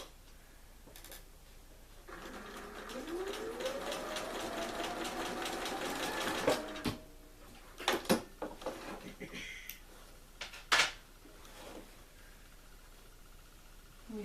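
A sewing machine runs for several seconds as binding is stitched down on a turkey-and-apple table runner, with its motor pitch rising as it speeds up. Clicks and handling sounds follow, and a voice talks at moderate distance.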